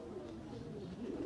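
A Qasoori Golden Kamagar pigeon, a Teddy and Kamagar cross female, coos faintly in a low steady murmur, quiet and brief.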